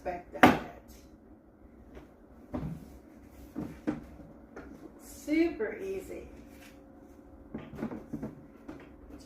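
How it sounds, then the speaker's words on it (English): The door of a portable refrigerator/freezer opens and closes several times with soft thumps and clicks, under a person talking nearby. "Whichever way you'd like to have the door opening up, depending on where you want to put it."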